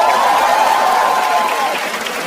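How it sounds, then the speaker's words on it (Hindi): Audience applause at a stand-up comedy show for the opening act, a steady, fairly loud roar of many hands clapping that tapers slightly near the close, with a voice faintly underneath. "थोड़ी तालियां हमारे ओपनिंग एक्ट के लिए भी।"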